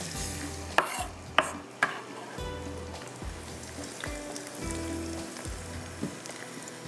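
Onions fry and brown in a pot as a low, steady sizzle, broken by a few sharp clicks from stirring early on and softer scraping later.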